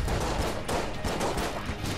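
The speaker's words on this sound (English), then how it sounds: "Shoot him with a revolver." Game gunfire from the Enter the Gungeon video game makes a dense, continuous clatter of shots and impacts that stays loud and busy throughout, with no talking.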